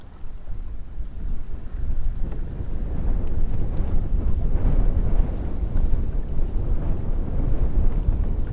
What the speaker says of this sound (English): It was really windy.